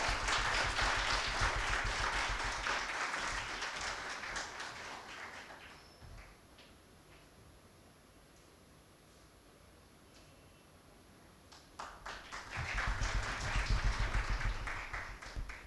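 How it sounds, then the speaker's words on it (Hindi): An audience applauds a media entrepreneur introduced at a talk on social media and parenting: a loud, dense burst of clapping dies down to near quiet in the middle, then a second round of applause swells up again. "उनके लिए जोरदार तालियां और होनी चाहिए"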